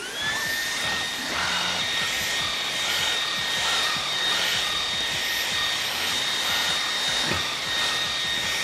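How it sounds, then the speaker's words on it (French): A Dreame V11 cordless handheld vacuum cleaner with its sofa brush attachment runs steadily, giving a loud, close, continuous high-pitched motor whine and airflow rush that holds for the whole stretch. "voilà le Dreamy V11 équipé de sa brossette pour canapé"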